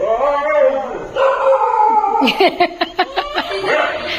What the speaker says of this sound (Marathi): कुत्र्याचा आवाज काढल्याबरोबर दोघे भुंगाळ लागले